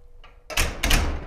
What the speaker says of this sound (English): and we'll close the door.